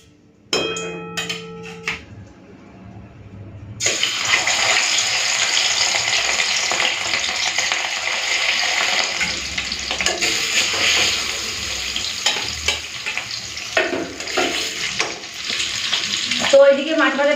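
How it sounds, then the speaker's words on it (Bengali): Fish frying in hot oil in a wok, a continuous loud sizzle after a few clinks of utensils, with scraping and stirring noises toward the end. "এখন মাছটা ভেজে নেব।"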